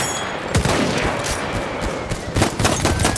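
Gunfire in the video game Battlefield 1: bursts of rapid shots crack loudly, with a dense barrage early on and more clustered volleys near the end.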